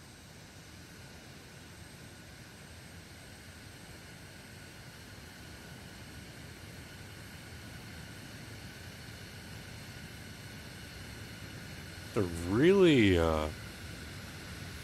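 A video game aircraft's steady engine roar builds slowly through a takeoff and landing cutscene in Xenoblade Chronicles 3, and a voice speaks briefly near the end.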